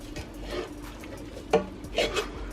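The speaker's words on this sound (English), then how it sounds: "Okay, now we're gonna mix it all." Mauritian-style biryani with fried onions being stirred and folded in a pot: soft, close scraping and shuffling of a spoon through rice, with a few sharper knocks against the pot.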